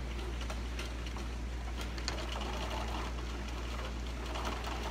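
A sewing machine runs a backstitch on a small fabric Easter treat bag. It makes a continuous low mechanical hum with faint ticking, quiet and close, with no talking.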